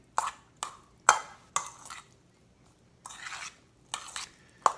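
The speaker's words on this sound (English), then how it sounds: "give everything a stir" A spoon scrapes and clinks against a bowl while roasted Mexican corn salad is stirred through with mayonnaise. The strokes come close up in separate bursts of about eight, with short quiet gaps between them.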